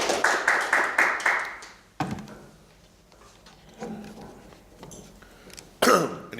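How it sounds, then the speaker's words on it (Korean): A seminar audience on innovation and growth gives a short burst of applause, rapid overlapping claps that stop abruptly after about two seconds, followed by quieter room noise, a shuffle and a cough. "예, 박수 부탁드리겠습니다."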